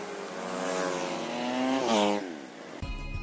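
A motorbike engine revs up in a rising, loud whine that swells and then falls away, followed by a sudden shift to a different, lower rumble at the end.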